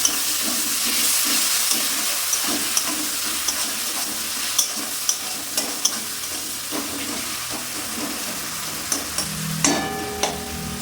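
Ginger, garlic and onion paste frying in a pan for a fish kalia, a soft steady sizzle with occasional light clicks and scrapes of stirring, fairly quiet and without talk.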